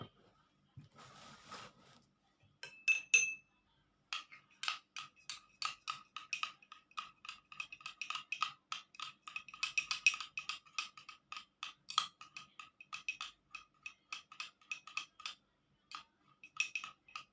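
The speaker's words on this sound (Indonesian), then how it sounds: "saya akan mengaduk betadin kepada larutan mangga" A spoon stirring betadine into mango solution in a glass, a fast series of light, bright clinks and ticks against the glass, close and otherwise quiet, growing denser after an early pause.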